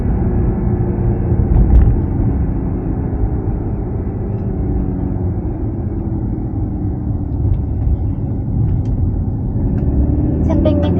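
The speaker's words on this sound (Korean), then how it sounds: "매뉴얼 모드로 해서 지금 4000rpm 가고 있고요" Mercedes C300 AMG Line engine in manual mode climbing toward 4000 rpm from inside the car, a loud continuous low rumble and drone that rises gradually, with a voice talking over it.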